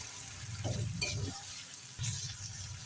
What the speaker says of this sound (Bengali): এবারে কিছুক্ষণ তেল ছাড়া পর্যন্ত ভেজে নেবেন, যতক্ষণ না পর্যন্ত মশলা থেকে তেল ছেড়ে দেয়।